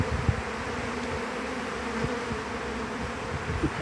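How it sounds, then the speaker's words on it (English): A dense swarm of honeybees buzzes continuously close around the listener during a hive transfer, a steady loud drone with no gaps or voices. "there is so many flying bees"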